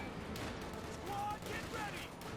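Gunfire rattles through a Company of Heroes 2 1v1 battle between US Forces and Wehrmacht, bursts of small-arms and vehicle fire crackling under continuous commentary.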